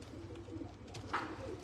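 Pigeons at a breeder's loft in Faisalabad coo in low, soft rolling murmurs that stay fairly close and steady, with a brief brighter chirp near the end and no speech.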